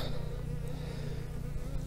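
Dense, continuous buzzing of many honeybees at a hive in March, drones among them, a steady low drone close by with no other sounds.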